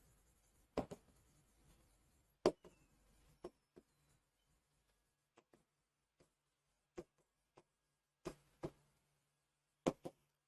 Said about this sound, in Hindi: ठीक है, मैं लिख रहा हूं।